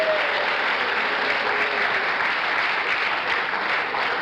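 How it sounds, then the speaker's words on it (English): Studio audience applause on a television talk show, a steady, dense burst of clapping that fills the whole stretch without pause. "What is that applauding?"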